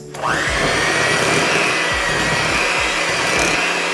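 An electric mixer beats lemon raspberry vodka pound cake batter, its motor whirring steadily and loudly from start to finish with no voices.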